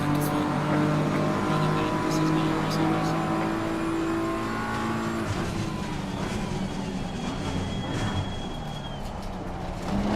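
McLaren race car engine in Assetto Corsa Competizione, a sustained droning whine that holds steady, then shifts pitch through gear and throttle changes, with a player talking over it.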